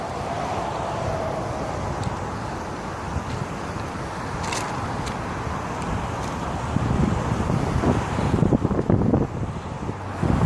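Steady wind buffets the microphone throughout, a constant low roar that grows slightly rougher and gustier toward the end.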